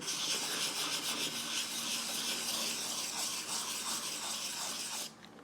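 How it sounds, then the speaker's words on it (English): Fine sandpaper rubbed by hand over a 3D printed shell coated with filler and Bondo, giving a steady close scratchy rasp that runs without pause and then drops off just before the end. "So I'm kind of just randomly going all over here to sand it."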